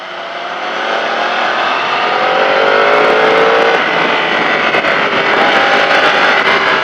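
A Kawasaki Z750 motorcycle on a race track accelerates with a loud, close engine whine that climbs steadily in pitch and holds high, with no voices over it.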